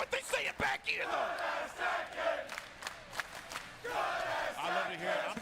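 A Tekken tournament crowd at a finals event shouts and cheers in loud rolling waves, rising and falling across the stretch with no commentary over it.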